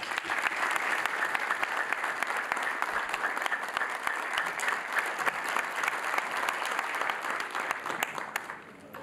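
Audience applause for a woman poet at a televised International Women's Day program, a dense steady crowd clapping that fills the clip and fades slightly near the end.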